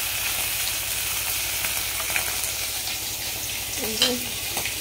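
Steady broadband sizzle of something frying in a pan in a home kitchen, continuous and fairly loud, with a few faint clinks and a brief indistinct voice near the end.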